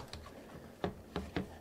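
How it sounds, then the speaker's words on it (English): An e-bike battery is popped out of the frame of a Wired Cruiser, giving a few sharp plastic clicks and clunks spaced about half a second apart, close and fairly quiet. "Pop out the battery here."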